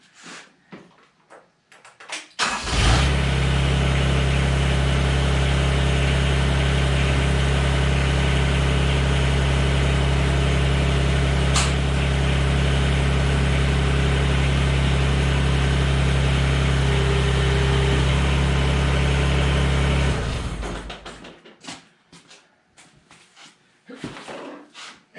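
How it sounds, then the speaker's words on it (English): A Mahindra eMax 20S HST tractor cranks, catches and settles into a steady, loud diesel idle for about eighteen seconds before shutting off, with some faint clatter around it. "start the tractor, and back a few inches"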